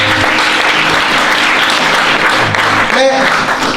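A church congregation applauds loudly and continuously during a sermon, with cheering voices mixed into the dense clapping.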